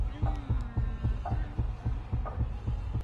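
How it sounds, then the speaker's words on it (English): Heartbeat in the haunted asylum of VRChat: a steady, loud double-thump pulse repeating about every half second over a low hum, with faint voices in the background. "I hear heartbeats"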